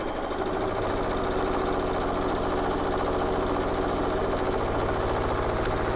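A sewing machine runs steadily without pause, stitching the final seam of a big churn dash quilt block, with a close, even mechanical whir and a rapid needle rhythm throughout.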